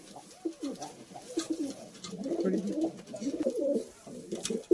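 Giribaz pigeons, a long-bodied fancy breed with short beaks, coo in low rolling, repeated calls at close range, with a few brief sharper sounds in between.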